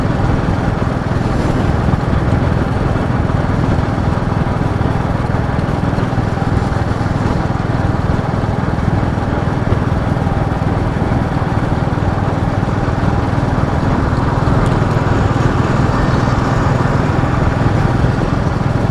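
Motorcycle engine running steadily while out on a short ride, a continuous loud broadband drone with road and wind noise throughout, no pauses.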